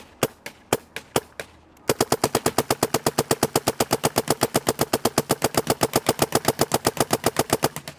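Dye mech frame paintball marker with a single trigger mechanical setup firing: a few spaced sharp pops, then a fast, even string of dozens of crisp shots close up, with no talking.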